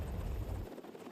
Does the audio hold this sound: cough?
no